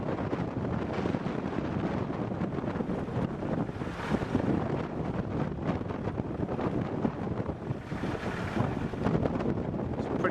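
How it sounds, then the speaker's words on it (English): Strong, gusty wind buffets the microphone in the Australian outback, a loud continuous roar with surging gusts throughout and no voices. "It's very, very windy here at the moment."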